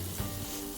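Onions and garlic sizzle in a pan while being stir fried, a brief, steady crackling hiss heard up close with no talking.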